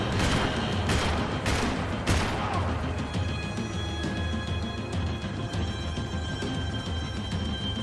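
Dense gunfire rattles through a Max Payne 3 gameplay scene, with several sharp shots at the start and then a sustained, loud barrage that continues throughout.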